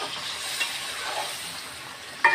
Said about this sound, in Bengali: আসলে আমি আজকে হাঁসের মাংস রান্না করছি।